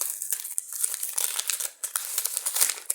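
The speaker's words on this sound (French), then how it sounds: "Mon fils qui m'a fait un cadeau et qui a insisté pour que je le déballe devant la vidéo" Gift wrapping paper is crinkled and torn open as a present is unwrapped, giving a continuous close, bright rustling with sharp crackles and brief pauses.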